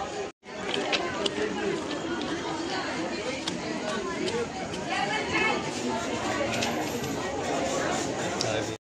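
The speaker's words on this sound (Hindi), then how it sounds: "आपको दिखाते हैं स्टेशन पे किस तरह का भीड़ है" A dense crowd murmurs and chatters nonstop on a packed railway station platform, many overlapping voices close and far blending into a steady babble, with nearby speech and occasional sharp clicks.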